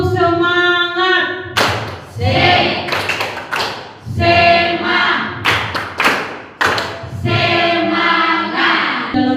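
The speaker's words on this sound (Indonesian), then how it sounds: "Tepuk semangat." A group clapping out a rhythmic spirit-clap chant, tepuk semangat, sharp bursts of hand claps and thumps in a patterned beat, mixed with sung or chanted voices.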